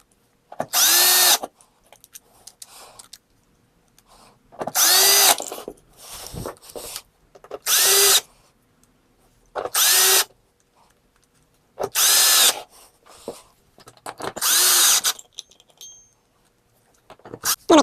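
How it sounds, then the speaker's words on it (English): A screw gun drives screws into a wooden gate leg table in about seven loud, close bursts, each a second or so long. The motor whines up under load, with quiet pauses and small shuffling noises in between. "You don't want to strip them out with the screw gun"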